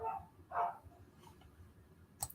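Dogs bark upstairs, a couple of muffled, distant yips and woofs heard faintly through the building in a quiet room.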